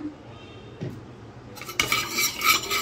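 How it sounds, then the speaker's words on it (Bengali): A quiet start with a faint clink, then metal scraping and stirring in a wok as white cooking oil begins to crackle and sizzle loudly. "তেলটা দিয়ে ভালো করে নাড়াচাড়া করে নিচ্ছি"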